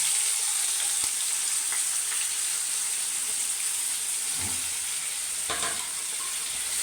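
Chopped onion hitting hot oil already popping with mustard seeds, giving a constant close sizzle with a couple of stirring scrapes near the end.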